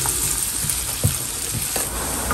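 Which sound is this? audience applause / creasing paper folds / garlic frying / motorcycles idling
garlic frying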